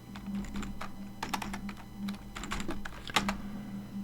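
Keys on a computer keyboard tapped in a quick burst, then a firmer keystroke like Enter, close and fairly quiet over a low steady hum.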